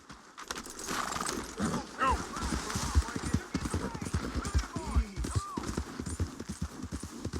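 Rapid horse hooves pound in a galloping rhythm throughout in a Wild West video game, with a voice talking over the steady clatter.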